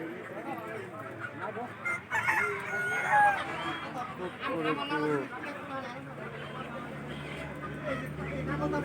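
Roosters crow and chickens cluck at a busy poultry market where native country chickens and ducks are bought and sold, the birds calling repeatedly amid steady crowd chatter and people talking nearby.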